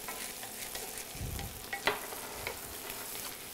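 Potatoes sizzle in a hot pan, seasoned with chipotle pepper or paprika, a steady quiet frying hiss with a soft stirring scrape partway through, heard up close with no talking.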